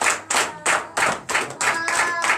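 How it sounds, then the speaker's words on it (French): A church audience at a night deliverance and prophecy service claps in rhythmic, synchronized bursts, about two per second, loud and close. The clapping keeps a steady beat and has no talking over it. "je vous demande d'applaudir très fort notre sœur gabonaise"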